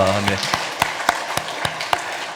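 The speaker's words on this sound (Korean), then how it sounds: "우리 박수 한번 하겠습니다" Church congregation applauding during a Sunday morning service: a few loud, sparse claps spaced at regular intervals, following a brief spoken word.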